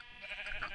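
A single sheep in a video game lets out a short bleat, faint and brief.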